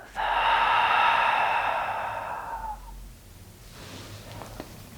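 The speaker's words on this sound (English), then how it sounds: "Inhale through the nose. Exhale out the mouth." A single long, steady breath from a yoga class closing its Yin session, loud and close for nearly three seconds, then a softer, fainter exhale trailing off alone with no talk.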